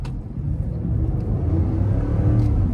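Ford V8 pickup truck with a 10-speed automatic transmission accelerating from low speed, a steady deep engine rumble that builds slightly, heard from inside the cab.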